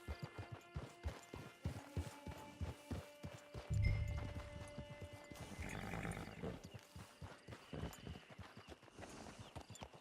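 Horse hooves clip-clopping in Red Dead Redemption 2, a steady run of close, sharp hoof strikes with a heavier thud and rumble partway through and ambient game sound beneath.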